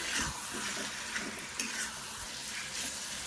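Chicken masala stirred and mixed in a frying pan, giving a steady sizzle with soft scraping strokes throughout, close and continuous with no talking.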